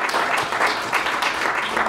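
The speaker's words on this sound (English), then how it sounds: "Let's give a round of applause for this beautiful film we just saw." A film screening audience applauds before a Q&A session, giving brisk, dense clapping that holds steady and close throughout.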